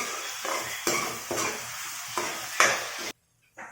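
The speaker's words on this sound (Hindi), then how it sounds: "प्याज भी डाल देंगे और थोड़ी देर चलाएंगे इसको" Onions fry in a hot pan for palak paneer while a spoon stirs them in steady repeated scrapes over a constant loud sizzle, which cuts off briefly near the end.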